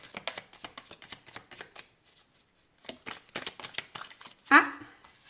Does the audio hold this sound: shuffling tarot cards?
yes